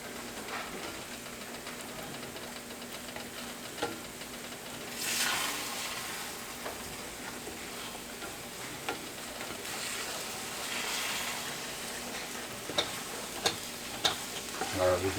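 Eggs fry in a pan for a Denny's-style Grand Slam breakfast, a fairly quiet, steady sizzle with occasional louder surges and a few sharp utensil clicks near the end.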